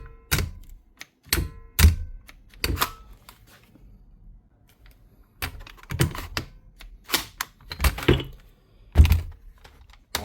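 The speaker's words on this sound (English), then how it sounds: "and you hear that motor click." Hikoki battery-powered nail gun, battery running low, giving sharp mechanical clicks and thunks in scattered bursts, several close strikes spread over the stretch with quiet gaps between.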